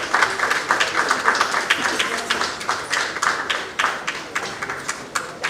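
A crowd honoring police officers applauds, sustained clapping from many hands with sharp individual claps standing out near the front, while voices murmur underneath.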